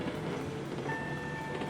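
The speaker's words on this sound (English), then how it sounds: "I'm going to try and push this train back as fast as I can" A loaded freight train is pushed back on a railroad in the Railroads Online video game, giving a steady, continuous rolling rumble with a faint tonal whine rising partway through and no talk.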